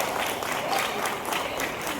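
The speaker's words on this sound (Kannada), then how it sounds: "ಒಮ್ಮೆ ಪ್ರೋತ್ಸಾಹಕರವಾಗಿ ಜೋರಾದ ಚಪ್ಪಾಳೆಗಳನ್ನು ಕೊಡಬೇಕು" Audience at a bhajan program giving a round of applause, dense steady clapping filling the hall for a short burst.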